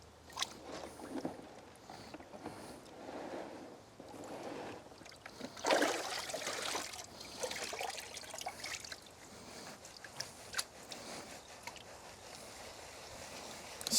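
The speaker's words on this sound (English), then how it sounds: "just move it around in a circular motion across the face of the pan, across the riffles" Water sloshing and swirling in a Sluice Fox vanishing riffle gold pan as it moves in circles over tailings, a steady close wet churn with gritty trickles and a louder surge midway, no talk.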